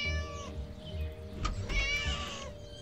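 A cat in the Scary Teacher 3D video game gives a few drawn-out, wavering meows over a low, steady game hum, with the loudest cry toward the end.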